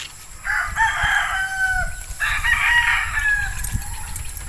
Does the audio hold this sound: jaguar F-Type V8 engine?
no